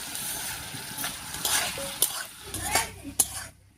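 Mung dal being stirred and fried with spices in a pan for a vegetarian pointed gourd dish, with steady sizzling under clinks and scrapes of a spatula against the pan, close and fairly loud.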